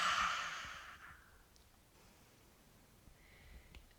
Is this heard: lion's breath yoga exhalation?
yes